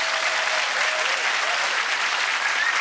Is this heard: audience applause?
yes